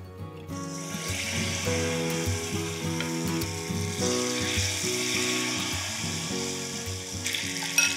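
Battered paneer pieces fry vigorously in oil over high heat, a loud, dense, unbroken crackle with a low steady hum running beneath it.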